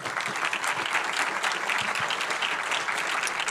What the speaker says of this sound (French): on peut t'applaudir bien fort